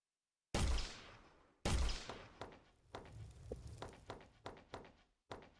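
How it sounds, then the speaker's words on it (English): Gunshots fire at a training dummy in a video game tutorial. Two loud, sharp blasts are followed by a run of quicker, fainter shots with short decays, and the firing is spaced unevenly. "We will use 5 shots to kill an enemy."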